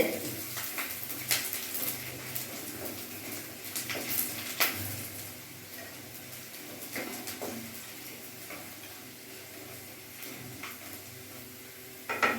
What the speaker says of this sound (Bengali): এবার আমি রসুনটা লাল লাল করে একটু ভেজে নেব।